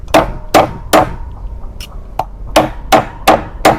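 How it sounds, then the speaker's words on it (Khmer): Heavy chopping blows split an ingredient in two for a regional Khmer sour pork soup, about eight sharp loud knocks in an uneven rhythm, close and with no talk. "វែងពេកអញ្ចឹងខ្ញុំកាប់ជាពីរ"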